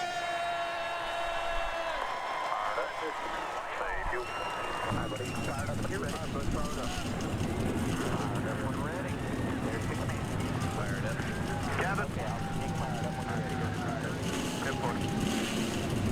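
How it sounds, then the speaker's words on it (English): A crowded roar of 42 stock car engines fires up and idles together at Daytona in the NASCAR Racing 2003 video game, a steady dense drone with a voice speaking briefly at the start. "42 engines come to life at the high banks of Daytona"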